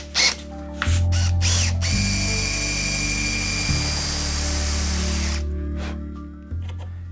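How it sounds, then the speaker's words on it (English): A power drill bores a 4 mm hole with a taped bit for a wooden drawer runner on a Shaker table, whirring in bursts with pitch shifts as it starts, loads up and stops. "So I've got some tape on the drill bit."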